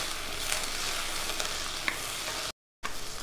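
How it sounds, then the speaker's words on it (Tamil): Onions sauté in a pan with curry leaves and tamarind for a Tamil pirandai thuvaiyal, giving a soft steady sizzle and faint stirring scrapes, quiet and close, with a brief dropout near the end. "நல்லா வெங்காயத்தை வெங்காயம் வணங்குற அளவு வணக்கி எடுத்துங்க"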